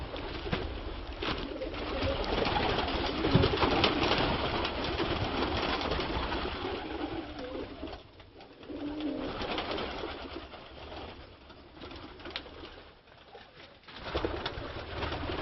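Pigeons cooing continuously inside a pigeon tower, many birds layered together in a soft, murmuring chorus, with a brief dip partway through before the cooing swells again.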